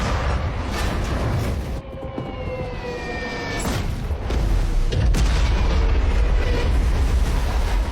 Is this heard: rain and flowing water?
no